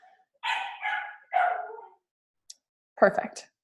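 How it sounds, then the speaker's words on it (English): A puppy barks indoors in a quick burst of three high yaps, then a short pause and one more sharp, yelping bark, fairly close and loud. "can you hear Sadie? I'm so sorry. That's my puppy"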